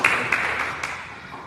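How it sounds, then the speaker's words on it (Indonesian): Church congregation breaking into applause, a burst of many hands clapping that starts loud and gradually fades over a second and a half. "Beri tepuk tangan dulu yang mulia buat Tuhan kita."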